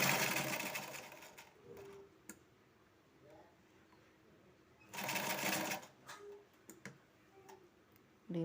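A sewing machine stitches fabric for a face veil in short bursts, loud runs near the start and again around the middle, with quiet handling noises between.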